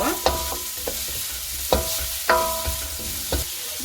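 Cabbage and salt stir-fried in a pan for fried rice, with loud, sharp scrapes and clacks of the spatula at uneven intervals over a steady close sizzle.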